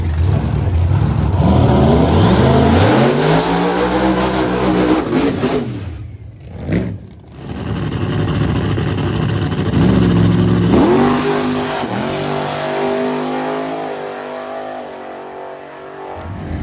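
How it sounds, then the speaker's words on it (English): A True Street drag car at a small-tire invitational roars loudly as its engine revs and pulls hard down the track, with a brief drop near the middle before a second surge of rising engine tone that fades toward the end. "We're gonna see what this little True Street car can do"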